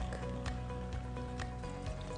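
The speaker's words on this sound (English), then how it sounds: "Open the small hatch and lid cover and add water to the input tank." Tap water poured into the input tank of a water purifier pitcher, making a steady low gurgling fill with faint trickling, fairly quiet and close, and no talking.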